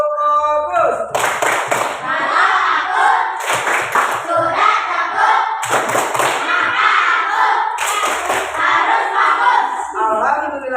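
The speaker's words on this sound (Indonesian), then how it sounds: "Tepuk fokus." Primary schoolchildren in a classroom performing the rhythmic 'tepuk fokus' clap routine, several bursts of unison clapping and chanted shouts in a repeating pattern, led by a teacher's voice.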